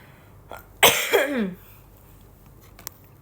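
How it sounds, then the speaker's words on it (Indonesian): A single sharp cough from a woman during a home livestream, loud and close, with a short raspy tail and quiet room tone around it. "Aku batuk mulu."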